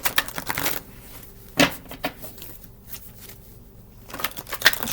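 Tarot cards are shuffled close by in a few soft papery riffles and flicks, with brief quieter gaps between the bursts.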